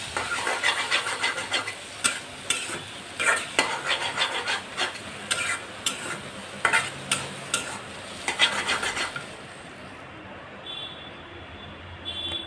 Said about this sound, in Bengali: জিরার গুঁড়া দিয়ে আর একটু নেড়ে চেড়ে এখন নামিয়ে নেব